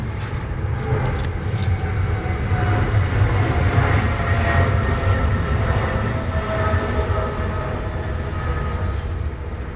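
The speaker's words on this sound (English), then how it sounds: "Planes seem louder today than normal." A loud, steady engine roar rumbles continuously, like an airplane passing overhead, with no talking.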